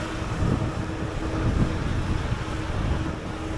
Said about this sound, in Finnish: Hyi kauhea, mikä tuuli.